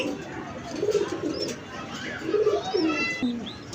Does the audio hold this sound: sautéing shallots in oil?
no